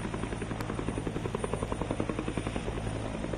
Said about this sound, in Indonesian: Dan Anda bisa saksikan bersama-sama proses penurunan mereka dari helikopter.